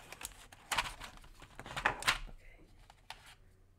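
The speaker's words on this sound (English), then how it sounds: "we test the sound on the keyboard." Soft keystrokes on a quiet custom-built keyboard, scattered muted clacks in small bursts with brief pauses, fairly faint and close, no talking.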